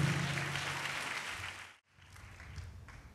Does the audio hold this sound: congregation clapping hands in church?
yes